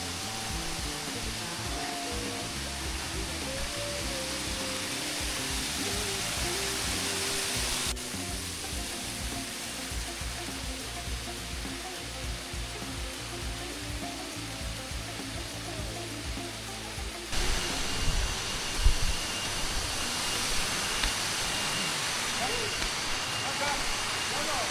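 A waterfall on the Kawisari plantation route to Sirah Kencong gives off a steady, loud rushing roar of falling water that carries on without a break.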